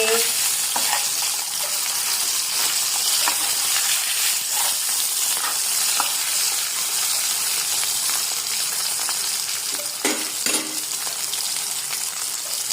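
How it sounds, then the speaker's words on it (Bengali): Fish frying crisp in hot oil in a pan for a Bengali dish, a steady close sizzle and crackle with scattered sharp pops throughout. "তবে দেখো আমরা মাছটাকে আগে একটু কড়া করে ভেজে নিই।"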